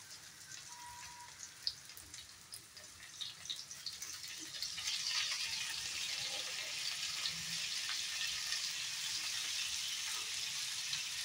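A large tomato dropped into hot oil in a pan for egg masala, hissing into a steady, bright sizzle that grows louder midway and continues evenly, close up with no talking.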